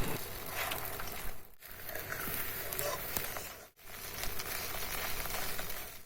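An egg fries in a pan with a soft, steady crackling sizzle that drops out briefly twice before resuming, fairly quiet and heard alone.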